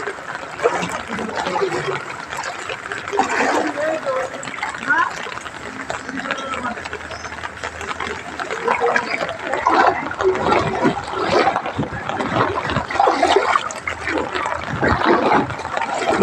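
Floodwater sloshing and splashing broadly and continuously at knee-deep level, a steady wet churn close by with people talking over it.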